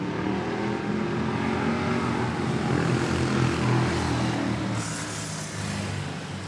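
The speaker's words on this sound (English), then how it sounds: "Philippine Airlines A320 from Iloilo about to touch down." A Philippine Airlines Airbus A320 arriving from Iloilo touches down at Manila airport, its engines giving a loud, steady, close roar with a low droning hum that holds throughout, with no voices heard.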